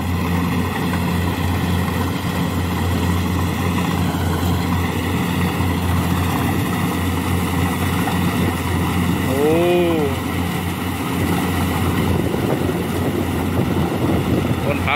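A Kubota DC-70 combine harvester cuts rice in a paddy field, its engine droning steadily and loud throughout with constant mechanical whir and some wind buffeting, someone talking over it.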